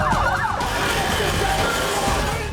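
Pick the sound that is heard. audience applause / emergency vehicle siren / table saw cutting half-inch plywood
emergency vehicle siren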